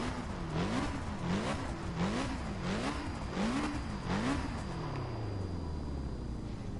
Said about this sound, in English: start the car up, and it sounds a lot more louder in here